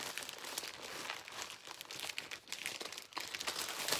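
Plastic bag crinkling and rustling as a brass necklace is unpacked, a steady close run of crackly crunches with brief pauses, no talking.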